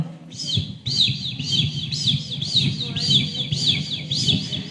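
A performer at a school mimicry show imitates chicks cheeping, giving about eight rapid, high, evenly spaced peeps close to the microphone over faint background murmur.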